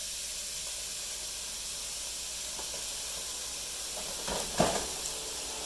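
Leftover white rice sizzles faintly in a pan while being turned into refried rice, a steady soft hiss with a few louder crackles and scrapes near the end.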